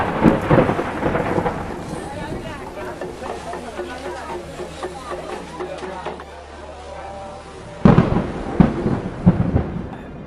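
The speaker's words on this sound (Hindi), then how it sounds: "केदारनाथ में शाम ढल चुकी थी और बारिश अभी भी जारी थी।" Evening thunderstorm with heavy rain at Kedarnath, a continuous downpour hiss with a sharp thunder crack toward the end, mixed with voices.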